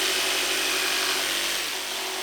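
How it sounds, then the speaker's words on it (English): A jigsaw cuts a small slit in a wooden piece meant to hold a phone. The rough, buzzing sawing noise runs close and loud without a break the whole time. "just make a little slit, cut it with the jigsaw"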